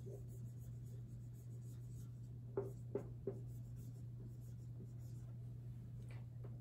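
A marker or chalk writes on a board in a quiet classroom-like room, a few short scratchy strokes clustered near the middle over a low steady hum.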